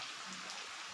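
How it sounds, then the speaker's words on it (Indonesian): Rain falls steadily on a village in rural West Java, a dense, even hiss with no talk over it. "Kita itu nunggu hujan reda dulu"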